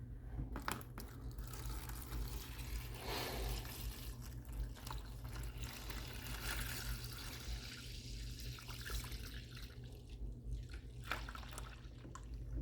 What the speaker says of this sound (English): I have to go find something bigger and put the knife in there and pour the coffee over it